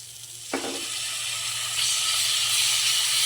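Pasta sauce and tomato sauce stirred together with vegetables in a hot pan, giving a steady close sizzling hiss that starts with a brief clatter and grows slightly louder.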